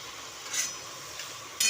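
Raw tomato chutney cooking in a pan, a soft steady simmer and faint sizzle with a couple of brief louder stirring scrapes, close and alone without talk.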